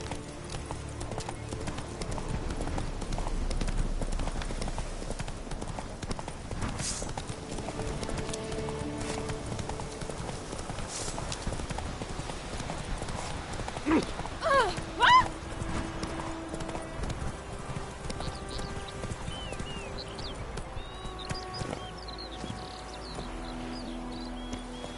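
Geralt's horse Roach galloping in The Witcher video game, a fast continuous rhythm of hoofbeats with an occasional whinny, set against ambient game music and effects.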